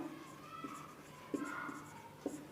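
Pen writing on paper while working a class 9–10 probability exercise about red, white and green marbles, a soft continuous scratching with a few brief taps, quiet and close, with no talk.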